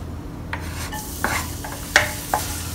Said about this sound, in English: In a heated pan, add in 1 tablespoon of oil, 3 pieces of garlic chopped.